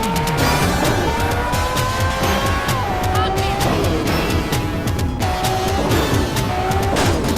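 A car driving in Grand Theft Auto: San Andreas, its engine revving loudly with rising and falling pitch as it shifts gears, while tires squeal and skid repeatedly through the turns.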